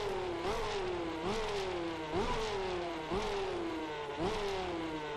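Race car engine in a sim racing game, idling high and revving in repeated rising sweeps roughly every second, loud and steady with no talk.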